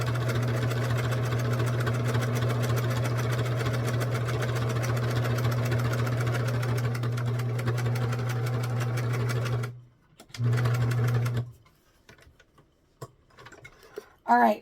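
A sewing machine stitches around a baby burp cloth with a steady, loud, rapid mechanical hum that runs continuously, stops briefly, resumes for a short burst, then falls silent.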